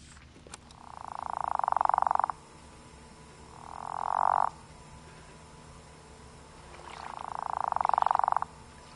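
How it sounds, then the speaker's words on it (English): A frog in the video game Season: A Letter To The Future croaks three times in long, swelling calls with pauses between them, loud and resonant over a faint background hum, with no talking. "I really like the sound of that frog from the beginning of the game"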